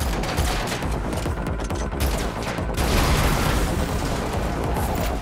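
Sustained gunfire rattles in the Matrix Awakens Unreal Engine 5 demo, a dense, loud fusillade of overlapping shots and booms that continues without a break and swells slightly toward the end.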